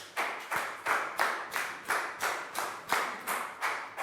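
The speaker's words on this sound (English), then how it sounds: "Big round of applause for Pat." A classroom of students claps in unison for a classmate, about ten sharp, evenly spaced beats in a steady rhythm, close and fairly loud, with no talking.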